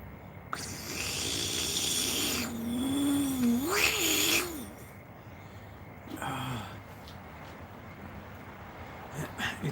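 Cats make loud rumbling, wavering vocal sounds close by, with a long drawn-out growl or caterwaul-like cry and breathy snorts over steady background noise, and no talking.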